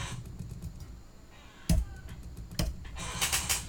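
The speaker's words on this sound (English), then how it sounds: "I can start typing away wherever I want to do" Computer keyboard typing into a new blank Google document, heard as a quiet scatter of light key taps with a few sharper clicks, close and alone without talk.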